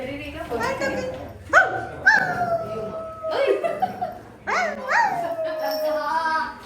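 A dog gives several short yelping, whining barks and drawn-out whimpering howls in a home setting, close and fairly loud, with people talking around it.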